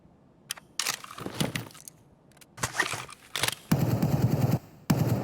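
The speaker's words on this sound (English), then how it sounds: "that's AK fire. That's not RPK." AK rifle fire in a Raid-style shooter game crackles in several short bursts of rapid shots, some sharp and close, others more distant, separated by brief quiet gaps, with no talking over them.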